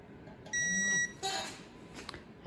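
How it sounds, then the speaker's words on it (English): A digital torque wrench beeping on reaching specified torque during a Ford 496 FE big-block engine build, one clear electronic tone lasting about half a second, followed by tool clicks in a quiet shop. "And it also vibrates when we get to the specified torque."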